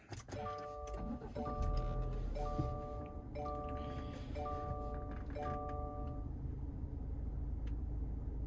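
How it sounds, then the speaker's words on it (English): A car starting up, with a low engine rumble under a string of six repeated electronic chime tones sounding about once a second before fading into a steady idle. "We're going to start the car now"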